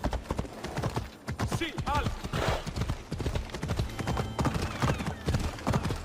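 A horse gallops in Assassin's Creed Odyssey with steady, rhythmic hoofbeats close by and occasional neighs, while voices talk over the riding.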